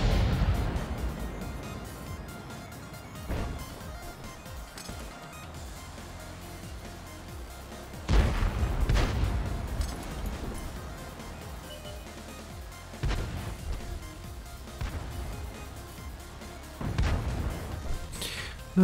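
Several heavy tank gun booms in the video game World of Tanks, spaced several seconds apart, each with a rumbling tail over a low mechanical hum.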